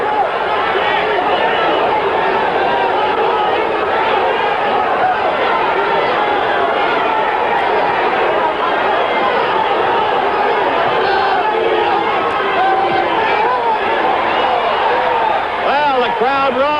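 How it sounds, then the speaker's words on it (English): Dense, continuous crowd roar and chatter fills a boxing arena during the Muhammad Ali versus Alfredo Evangelista fight, loud and steady throughout with a babble of many voices and no break. "Crowd roars as Evangelista."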